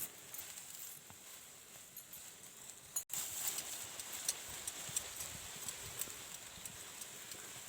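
A donkey walks along a rural path, loaded with firewood and greens. Its hooves clop in a steady, fairly faint rhythm over constant outdoor background noise, and there is no talk.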